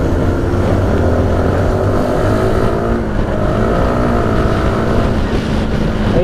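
A Honda Supra GTR 150 motorcycle engine runs steadily and loudly throughout, with a continuous droning hum and rising, shifting harmonics as the revs change, heard up close while riding.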